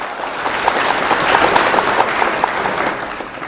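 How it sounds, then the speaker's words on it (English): Dense applause from a crowd at a challenge match, loud, steady clapping that swells and fades over a few seconds with no other sound. "That deserves a double clap."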